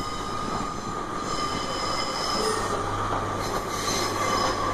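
A Class 156 diesel multiple unit hauls a Class 142 Pacer out of Carlisle, giving a loud, steady rumble with wheel squeal and faint clicking of rails, close by and with no talk.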